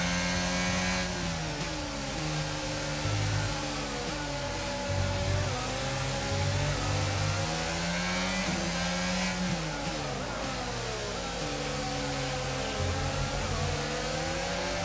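Formula 1 car engine in the racing video game F1 22, revving and accelerating through gear changes in a steady, loud drone that rises and falls for about fifteen seconds, with no talk.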